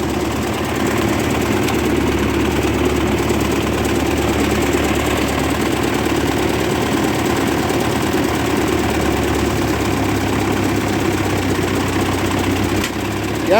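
A 1958 Oliver 550 diesel tractor runs steadily in first gear, its engine chugging with a constant low, rough knock and vibration, loud and close, continuing without pause and with no talking over it.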